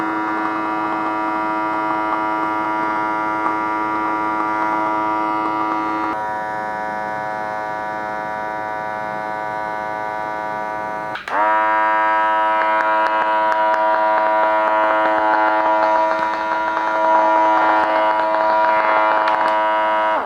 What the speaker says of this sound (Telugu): సో చూసారు కదా ఎంత స్మోక్ని అయితే రిలీజ్ చేసిందో